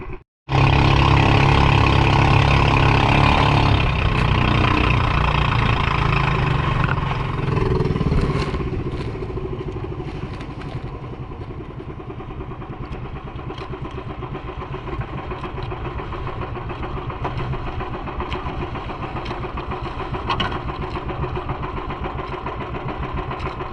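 The engine of a fishing boat runs loud and close, with a rough, heavy idle at the start. It then settles into a steady, buzzing chug that continues unbroken to the end.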